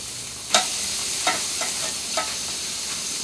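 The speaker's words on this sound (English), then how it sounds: "so we're going to put the quail on skin side now. Getting a nice hiss already" Marinated quail laid skin side down on a hot char-grill hisses steadily, with a sharp sizzle burst as it lands followed by several softer crackling pops over a constant frying hiss.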